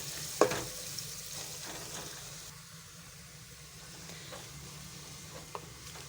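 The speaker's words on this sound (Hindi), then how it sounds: "और लहसुन को भी हम हल्का ब्राउन कर लेंगे।" Garlic and onions frying in ghee in a pan for a chicken and mash dal dish, a steady soft sizzle throughout with an occasional louder stir or clink near the start and end, no talking.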